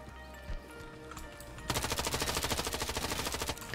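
Rapid automatic gunfire from a single-player military shooter game, a loud sustained burst of evenly spaced shots starting abruptly after a quieter stretch of ambient game sound.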